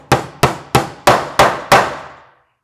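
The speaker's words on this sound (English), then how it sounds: "so let's hammer it off" Six crisp hammer strikes on a nail going into a wooden planter box, steady rhythm, each hit decaying quickly, close up and alone.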